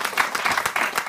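A studio audience at a German entertainment show breaks into applause, a steady dense patter of many hands clapping at an even volume with no voices on top.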